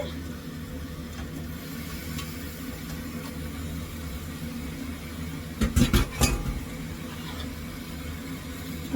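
Chicken pieces being stirred in a cooking pot for curry, a brief cluster of metallic scraping and clanks in the middle over a quiet steady background hum, close by, with no talk.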